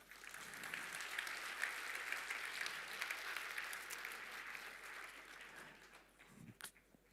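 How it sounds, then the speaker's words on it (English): An audience at a programming contest's opening ceremony applauds in a steady, fairly distant wash of clapping that fades out near the end. "Please give him a round of applause."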